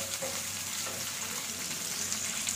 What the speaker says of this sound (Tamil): இந்த கட் பண்ணி வச்சிருக்க பெரிய வெங்காயத்தை போடுவோம் போட்டு கொஞ்சம் எண்ணெயில தவக்கலாம்